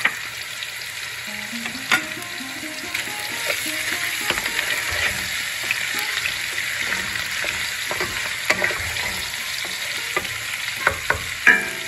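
Grated ginger is tossed into a pan of fried onions. It sizzles and crackles steadily for the whole stretch, with scraping stirs and spoon taps near the mic and no talking.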